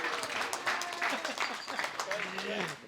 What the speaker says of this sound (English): Can everyone have a round of applause